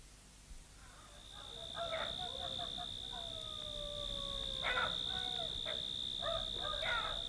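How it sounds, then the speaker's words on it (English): Jackals in a radio drama give wavering, gliding howls and yelps in a ragged chorus, some distance away, over a steady high insect-like drone and a low background hiss. "No, those are jackals."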